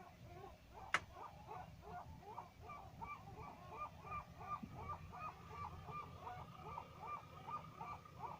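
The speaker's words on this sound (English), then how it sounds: "Some seagulls doing some very unusual stuff here." Seagulls calling: a fairly faint chorus of quick, repeated squawks in a steady rhythm, with one sharp click near the start.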